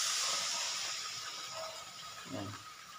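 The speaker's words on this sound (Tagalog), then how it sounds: "kumukulo na siya guys" Miswa soup broth with patola boils in a pot, giving a faint, steady hiss of bubbling and steam with a soft thump near the end.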